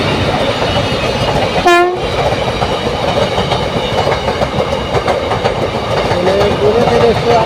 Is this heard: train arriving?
yes